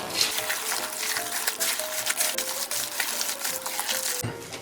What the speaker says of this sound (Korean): 버무려주세요.